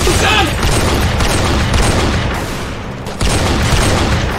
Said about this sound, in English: I just shot you in the chest twice